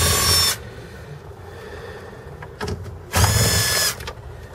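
A power driver with a magnetic socket whirs in two short bursts while backing screws out of a Ford F-150 center console, close and loud, with quieter handling noise between runs.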